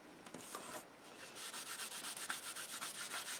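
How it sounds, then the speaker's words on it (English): A baby wipe rubs stone paste off a craft surface in quick, faint, rhythmic strokes, close and quiet with no voices. "I'm just going to rub little bits of that off, but not all of it"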